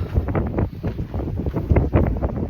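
Strong wind in Tbilisi, Georgia buffets the microphone in continuous low rumbling gusts, loud and close, with no speech.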